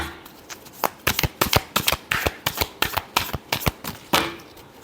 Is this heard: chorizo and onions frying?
no